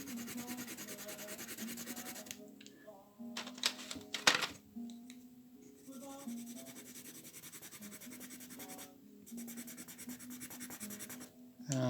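Watercolour pencils scratch and rub across paper in close, uneven strokes, pausing and starting again in short bursts, with faint tapping between them.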